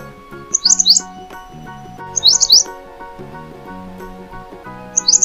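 A black-faced bulbul chirps in three short, bright bursts of twittering, spaced a couple of seconds apart, over steady background music.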